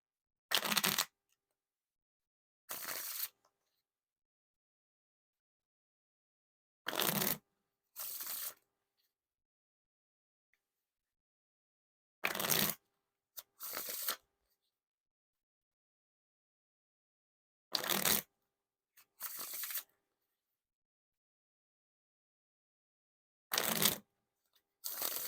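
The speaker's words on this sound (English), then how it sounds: "Now onto the riffle shuffle or bridge shuffle." Playing cards are riffle shuffled in sharp, crisp bursts, each quick fluttering shuffle followed by a pause, repeated several times in quiet surroundings.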